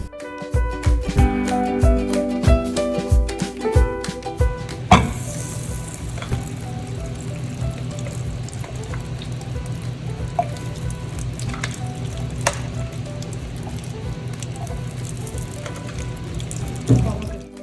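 Wheat payasam boils in a pan with a steady low bubbling and sizzle, following a few seconds of background music, with occasional soft clinks over the simmer.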